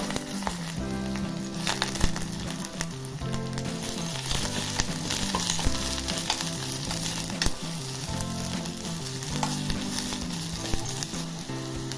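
Soaked dried vegetables drop into a pan of roasted garlic and chillies for a traditional Bhogi mixed vegetable dish, setting off a loud, continuous close sizzle with crackles and occasional stirring scrapes, no voices.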